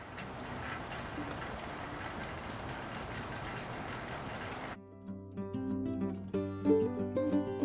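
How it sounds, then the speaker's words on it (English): Sleety rain falls steadily on a backyard, a dense even patter that runs for several seconds before cutting off abruptly into music. "that clip of the sleety kind of rain hitting the backyard"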